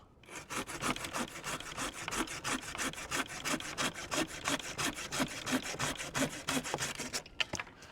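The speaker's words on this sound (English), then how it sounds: "I want to show you how fast the pruning saw is." A pruning saw cuts through an old fig tree branch in rapid, steady back-and-forth strokes, close and loud, with a rhythmic rasp that runs for about seven seconds before stopping.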